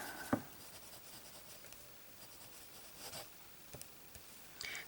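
Pen scratching across an ink score card, faint and close, with short scribbling strokes and small taps spread across a quiet background.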